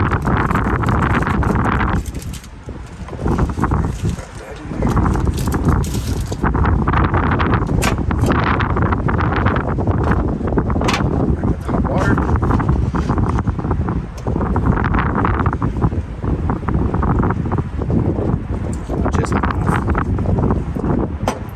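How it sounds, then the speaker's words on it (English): Strong wind buffets the microphone in heavy, continuous roaring gusts that barely let up, with a brief lull a few seconds in. "Crazy windy out here."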